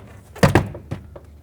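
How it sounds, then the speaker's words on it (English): A couple of sharp plastic pops in quick succession, followed by a softer third snap, close and brief, as trim clips release from a 2005-2009 Chevy Equinox door panel. "pop off all the clips that hold this door panel on"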